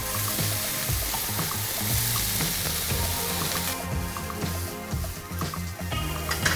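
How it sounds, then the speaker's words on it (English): Vegetarian giniling, a mushroom-based meat substitute, sizzling and being stirred in a hot pan, a loud continuous crackling fry with scraping and stirring texture throughout, close up. "all we're gonna do is put the giniling in a pan and just stir fry that"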